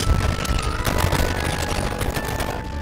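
Rapid bursts of automatic gunfire in the mobile shooter Warzone Mobile crackle in dense volleys, loud and continuous, with a sharp louder shot near the middle and no voices.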